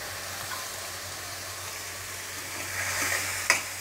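Sprouted moong beans being sautéed with spices in a pan make a soft, continuous sizzle, with a faint scrape near the end.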